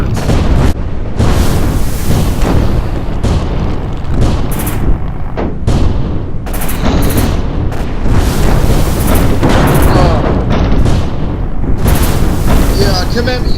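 In a naval video game air raid, anti-aircraft guns fire in rapid loud bursts amid heavy booming explosions, dense and continuous throughout, with a voice speaking over the battle.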